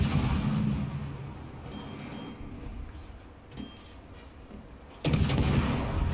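Gunfire in an armored vehicle combat game, a rumbling barrage under steady engine noise, with a loud burst of firing toward the end.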